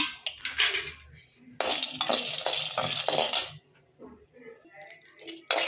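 Raw peanuts rattle and scrape in a pan as they are dry-roasted until reddish and stirred in repeated bursts of dry clattering, close up, with brief pauses between.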